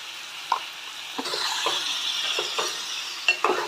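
Chicken with salt stirred in a pot, close spoon scrapes and soft clinks against the metal over a steady background sizzle, with a couple of sharper taps.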